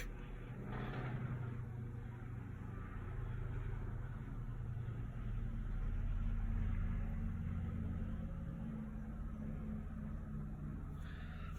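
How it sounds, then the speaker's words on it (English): Low, steady rumble of a helicopter passing overhead, swelling gently and fading over about ten seconds with no talk. "I'll let this helicopter go by"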